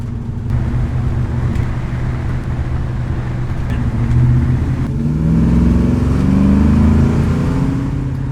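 A 1957 Chevy Bel Air accelerates onto the freeway, its V8-style engine rumbling loud and close, rising steadily in pitch and intensity as it gains speed over road noise.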